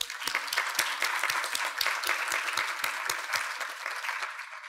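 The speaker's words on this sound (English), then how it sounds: "Would you please give her a round of applause?" An audience at an academic symposium applauds, a steady patter of many hands clapping at moderate distance for several seconds before fading slightly.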